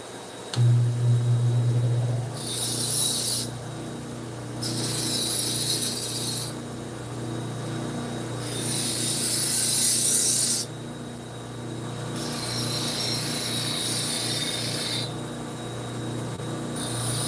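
A knife edge is sharpened edge trailing to raise a burr, with steady rasping strokes repeated in long, even passes that rise and fall over a constant background hum.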